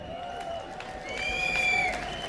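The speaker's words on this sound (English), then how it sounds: "Give yourselves a massive round of applause" Crowd applause at a London demonstration, a dense patter of clapping that swells midway and holds, with steady tonal ringing and faint voices mixed in.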